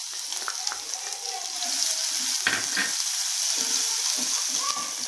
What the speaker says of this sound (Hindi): इसमें ये लहसुन डाल देंगे।